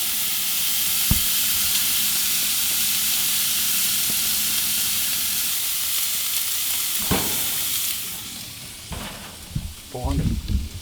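Loud continuous sizzle of ribeye steaks on a hot Monument Mesa 305 grill, a bright crackling hiss that eases toward the end, with a few clanks of utensils.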